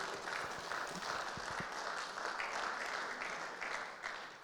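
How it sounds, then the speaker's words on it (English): A meeting audience applauding for birthdays, a steady patter of many hands clapping at a modest distance, continuous for several seconds. "Let's give them a round of applause for happy birthday."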